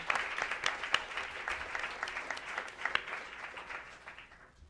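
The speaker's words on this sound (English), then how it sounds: "Can we just pause and have a little round of applause?" A modest group at a school board of education meeting applauds, the clapping fairly distant and quiet, with individual claps standing out before it thins and fades at the end.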